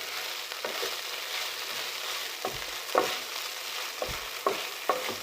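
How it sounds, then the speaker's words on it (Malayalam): A brinjal pepper roast is stirred in a pan, with a soft sizzle underneath and several distinct scraping strokes of a spoon against the pan at irregular intervals, close and without speech. "നന്നായിട്ടൊന്ന് ഇളക്കി യോജിപ്പിച്ച് കൊടുക്കാം."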